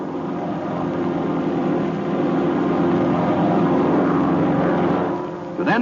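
Propeller airplanes flying in formation give a steady droning engine roar that swells slightly and then fades, loud and continuous without any voices.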